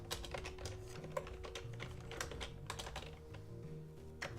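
Rapid, steady keystrokes on a loud computer keyboard, a dense run of close clicks with small pauses, no voices over them.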